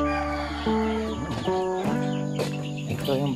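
Backyard chickens feeding on black soldier fly larvae cluck and chatter in quick, overlapping calls, close and fairly loud, with varied pitched clucks from several birds at once.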